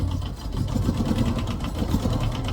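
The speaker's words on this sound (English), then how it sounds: "Check out the engine, the motor." Tour boat outboard motor idling on a mangrove swamp tour in Thailand, a steady close, rumbling drone with a fast mechanical chatter, heard on its own.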